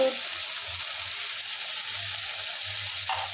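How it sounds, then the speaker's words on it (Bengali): Spice paste for potol chingri curry frying in a pan, a steady close sizzle with soft intermittent low thumps of stirring beneath it, moderately loud and unbroken. "মশলাটা ভালো করে কষিয়ে নেব।"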